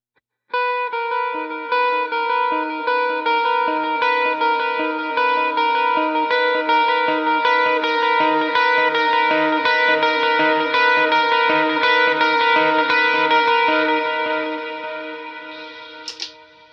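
A clean electric guitar lead with light delay and reverb, sustained melodic notes played steadily in a gallop-like phrase, ringing softly with gentle echo tails, loud and alone.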